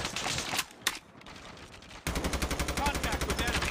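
Gunfire from the Call of Duty Mobile game: a few loud single shots, a brief lull with faint background, then a sustained rapid burst of automatic fire, close and dominant.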